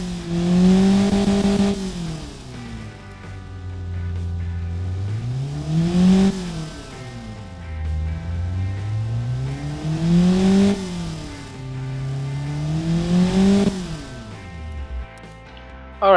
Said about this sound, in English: This is a classic inline 4 engine with a push rod in a valve system.